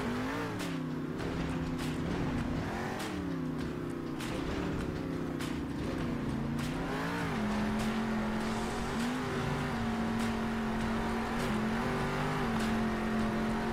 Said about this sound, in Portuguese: É a porra de um Monster Truck, velho.